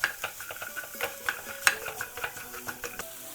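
Spice powders, chili powder among them, stirred in a frying pan for a vegetable cutlet mixture, with rhythmic scraping and light metallic clinks of a utensil against the pan over a faint sizzle, close and clear, no speech.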